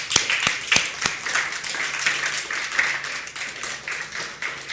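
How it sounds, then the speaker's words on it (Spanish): A church congregation applauds with loud, distinct individual claps early on that blend into a steady, fairly close round of clapping lasting several seconds. "¿Alguien le podrá dar un aplauso fuerte al Señor?"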